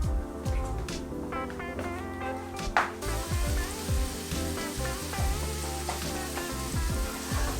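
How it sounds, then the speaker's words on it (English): Red peppers and onions sauté in a hot pan, a continuous close sizzle and crackle with occasional stirring scrapes and utensil clinks, no talking. "right now we're sauteing the onions and the peppers"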